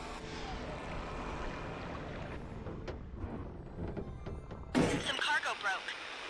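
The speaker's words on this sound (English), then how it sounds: "Some cargo broke. These rough landings are only setting us back." Cargo breaks with a sudden crash during a rough airship landing in a brewing-themed game. A steady drone of wind and engine runs underneath before one loud crash near the end, followed by brief rattling debris.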